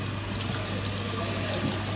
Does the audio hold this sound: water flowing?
yes